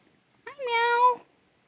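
A domestic cat gives a single clear, drawn-out meow close by, rising then holding steady for under a second, with quiet around it and no talking.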